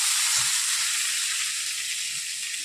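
Two medium-sized cut potatoes drop into hot oil in a pan, setting off a steady, loud hiss of sizzling that holds evenly throughout with no talking.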